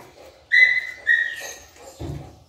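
A dog at the vet gives two high, drawn-out whining cries close to the microphone, followed by a lower, shorter whimper, with faint background noise between them.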